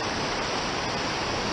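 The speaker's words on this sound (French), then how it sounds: "Aujourd'hui on est dans une petite rivière en centre-ville." A small, low, clear river running through a town centre in Haute-Loire, heard as a steady, dense rushing wash of water with no voices.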